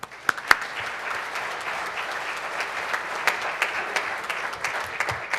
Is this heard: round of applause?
yes